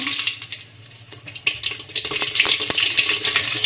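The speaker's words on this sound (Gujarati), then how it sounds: "તો તેલ ગરમ થઈ ગયું છે આપણું, તો એમાં 1 ચમચી આપણે રાઈ નાખીશું" A spoonful of mustard seeds drops into hot oil and sets off a bright, steady sizzle. Sharp crackles and pops come through it and build toward the end.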